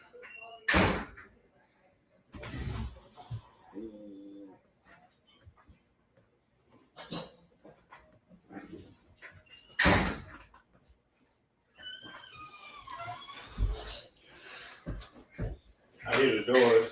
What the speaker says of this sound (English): I hear the doors.